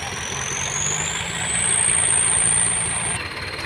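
A Ford farm tractor engine runs loud and steady while pulling a stuck vehicle, with a rising high-pitched whine that climbs over a few seconds and then drops off, no talking.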